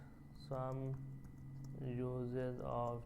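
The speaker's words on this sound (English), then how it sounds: "Like I type paper here" Keys tapping on a computer keyboard while a paper is typed, soft clicks running under a steady tonal hum that swells and fades in bursts.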